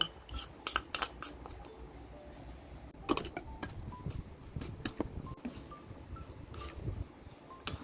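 A Thai fried rice salad with fermented fish sausage and sliced spring onion being tossed with utensils, quiet scattered clinks and scrapes of metal on a dish at an uneven pace, close by without talk.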